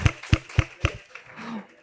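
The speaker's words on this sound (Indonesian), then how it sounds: "Mbak Pu, kasih tepuk tangan dulu, kasih tepuk tangan." Four sharp, evenly spaced hand claps at a televised panel discussion, close and distinct, followed by a faint voice.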